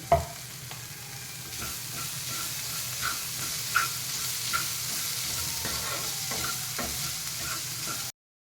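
Onions frying in a pan for a ragi and wheat flour uttapam, a steady close sizzle with occasional stirring scrapes and small pops, heard alone without talk for about eight seconds.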